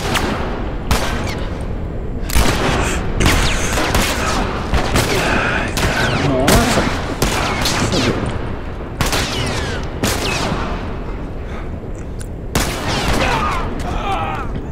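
Gunfire in the video game The Last of Us comes as loud, rapid bursts of repeated shots in clusters across the stretch, with faint talk underneath.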